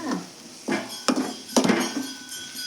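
Beans fried in a pan being stirred, with several sharp metallic clinks and scrapes of a spoon against the pan at irregular intervals over a low background hum.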